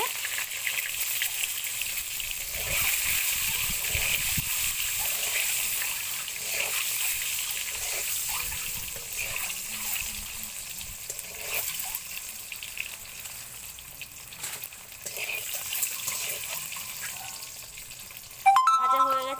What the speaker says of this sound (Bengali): ডিমগুলোকে ভেজে নেওয়া হচ্ছে